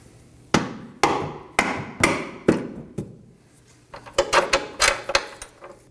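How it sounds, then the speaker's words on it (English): A rubber mallet strikes a camber bolt on a Chevrolet Equinox rear suspension, five evenly spaced sharp knocks followed by a quicker cluster of lighter taps, close and distinct with no voices. "Now I'm going to remove our bolt using a rubber mallet."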